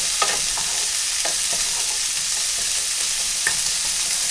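Peppers searing in vegetable oil in a hot pan make a loud, even sizzle with scattered sharp pops and crackles, close and continuous, with no speech.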